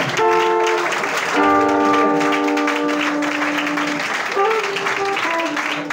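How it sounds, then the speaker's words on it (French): A church congregation acclaims and applauds the Lord, a steady wash of cheering and clapping with sustained sung or shouted tones held above it throughout. "Est-ce que tu peux continuer à acclamer le Seigneur?"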